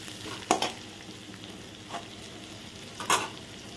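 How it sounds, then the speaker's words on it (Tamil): Onions sizzle in hot ghee with green chillies, a soft steady frying hiss broken by a few sharp scraping stirs of a spatula against the pan. "இப்போ வந்து வெங்காயத்தை ஆட் பண்ணிக்கலாம். வெங்காயம் நல்லா வதங்கட்டும்."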